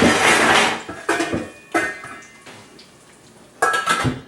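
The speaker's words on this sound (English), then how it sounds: "Put a lid on it." A lid is set onto a cooking pan in a home kitchen, giving several clattering metallic clanks and scrapes in separate bursts close by, with a quiet pause between them.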